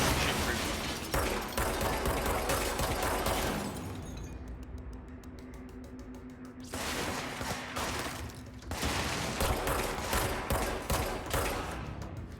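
Dense, sustained gunfire roars through a Control video game firefight, a continuous barrage of shots with a brief lull in the middle before the shooting resumes at full intensity.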